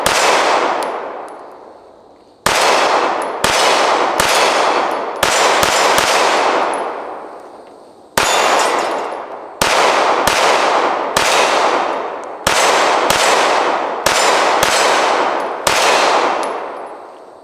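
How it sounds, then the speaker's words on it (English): Tisas PX-9 Duty Comp 9mm pistol firing 115 grain Blazer brass full metal jacket rounds, about eighteen loud, sharp shots in quick irregular strings with brief pauses, each ending in a ringing decay. "I haven't fired this yet, just brought it home and loaded a mag, and for now we're using some 115 grain Blazer brass FMJs"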